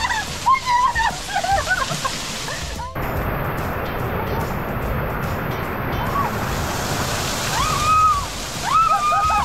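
Dragon Palace Waterfall on the Meishan Zhukengxi trail splashes in a dense, steady rush heard up close, with voices talking and calling out before and after the water noise.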